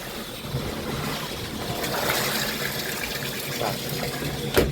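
Water pours steadily into a Toshiba top-load washing machine during a repair check for a draining fault, a continuous broadband rush and splash heard close up with no talking.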